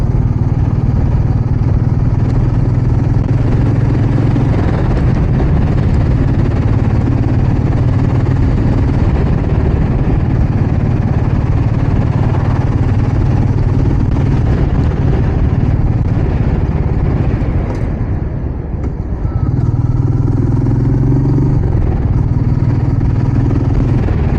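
A Royal Enfield Meteor 350 motorcycle (2023 model) runs on the road, its engine and exhaust giving a loud, steady low rumble that dips briefly near the end before resuming, with no talk over it.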